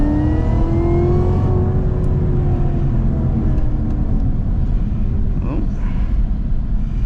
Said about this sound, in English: Can't drive this car without at least giving it, you know, a little bit of gas